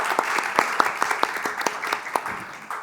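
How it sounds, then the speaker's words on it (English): An audience at a summit panel session gives a round of applause, a modest crowd clapping with a few distinct, sharp nearby claps standing out over the steady patter. "if you'd give a round of applause to our panel."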